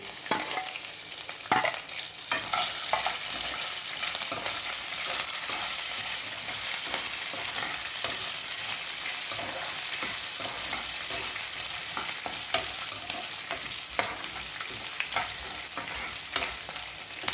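Ginger pieces and green chillies stir-frying in hot oil for lemon rice, a loud, continuous sizzle with frequent scraping and tapping of a spatula throughout, no voices.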